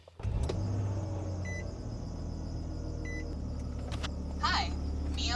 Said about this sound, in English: Now it's time to power up the vehicle.